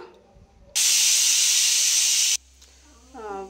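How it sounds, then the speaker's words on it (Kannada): Pressure cooker whistle blowing off steam on a home stove while sambar vegetables are prepared: one loud, steady hissing blast lasting about a second and a half, then cutting off abruptly, with faint kitchen noise before and a brief voice afterward. "ವಿಷಲ್ ಕೂಡ ಬಂದಿದೆ"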